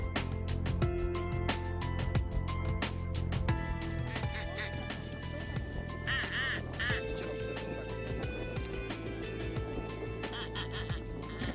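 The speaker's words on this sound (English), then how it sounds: "We hear hubbub coming from birds in the canes" Ducks quacking from the reed canes of a drying lake during a spring drake hunt in Kazakhstan, a dense, continuous hubbub of many birds calling at once, some near and some farther off.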